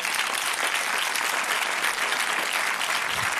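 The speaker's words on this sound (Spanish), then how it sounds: "un aplauso" Audience applause in a Spanish television studio, a dense, steady burst of many hands clapping at once, loud and close, holding evenly throughout.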